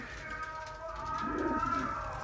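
A pigeon offered for sale coos softly, a low rolling call rising in the second half over a quiet, steady background.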